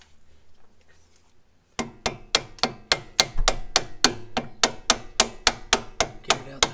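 A steady run of sharp metallic hammer blows driving a bolt out of a car's upper control arm, roughly three strikes per second after a quiet start, close and loud.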